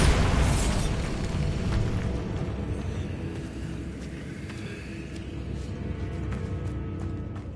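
Bombarda blasting spell from Hogwarts Legacy, a loud booming explosion at the start that rolls into a long, dense rumble fading slowly, with no voices.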